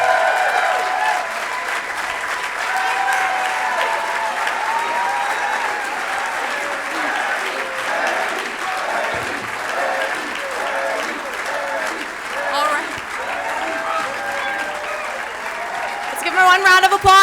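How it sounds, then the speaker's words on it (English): An audience at a 2018 political candidate training event claps steadily as the keynote speaker leaves, a dense, sustained round of applause that runs throughout and swells briefly near the end. "One round of applause as he heads out the door."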